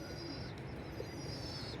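High-flying pigeons of the Mikołajewskie breed coo softly against a low, steady background rumble, a faint murmuring call heard at a distance.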